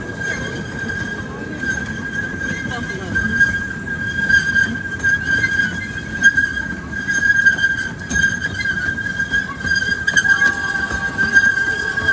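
A tourist train rumbles steadily through a station platform with a sustained high metallic squeal and brief whistle-like tones, close by, with a slight clatter toward the end.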